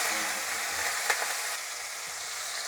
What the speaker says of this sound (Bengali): এবার চিংড়ি মাছটা আমি অল্প একটু হলুদ আর নুন দিয়ে ভেজে নেব।